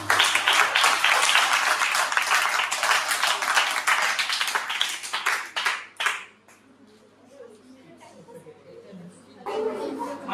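Audience of participants at a 3D printing workshop clapping together, a dense burst of applause for about six seconds that fades out, followed by quieter chatter and a voice.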